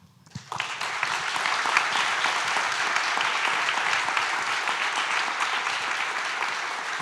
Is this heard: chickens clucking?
no